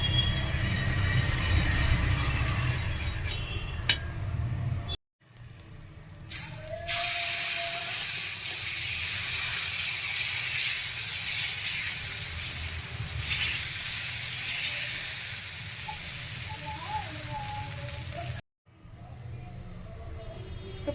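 Ghee sizzles on a hot tawa in a steady, loud hiss that runs almost the whole time, broken by two short silent gaps, with a faint clink near the start.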